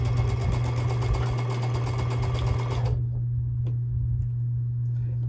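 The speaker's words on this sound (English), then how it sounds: "I'm gonna sew really slow to make sure I got right over that point." A sewing machine stitches slowly through a bulky seam on a small quilt, a loud close mechanical whir with a steady hum that cuts off abruptly partway through, leaving a quiet drone.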